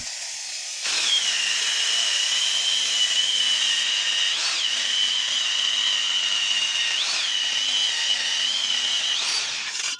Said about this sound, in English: We will drill at an angle of approximately 45 degrees through the foundation of the house